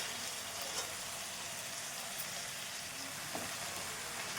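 Onions and drumstick leaves fry in a pan for a murungai keerai poriyal, with a faint, even sizzle and a couple of light crackles, with no voices.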